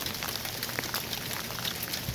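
Steady rain falls outdoors during garden planting of germinated seedlings, a dense, even hiss of drops pattering on surfaces close by, continuous throughout with no voices.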